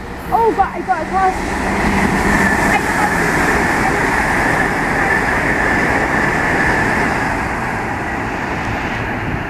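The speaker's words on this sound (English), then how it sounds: "The train now approaching is a class 800 or 802. It's a class 802." A Great Western Railway Class 802 train approaches West Ealing station on the Great Western Main Line, a steady broad rumble and rail roar filling the whole stretch, close and loud, with a brief voice near the start.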